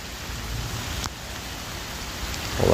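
Heavy rain falling during a city flood, a steady close hiss of rain on surfaces with a brief knock partway through and a louder burst near the end, no talking.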